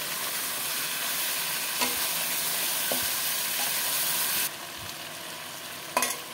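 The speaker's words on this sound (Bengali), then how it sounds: "আমি ঢাকনাটা বন্ধ করে করে মশলাটাকে কষাবো" Mutton masala fries in a pot with a steady, close sizzle and a few stirring knocks. The sizzle drops sharply partway through, then one last clatter sounds.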